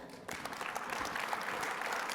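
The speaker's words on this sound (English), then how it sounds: "let's give Matt a big round of applause" A conference audience breaks into applause welcoming a speaker at a North Dakota concrete pavement talk, starting abruptly and holding as a steady, dense wash of clapping from a large crowd.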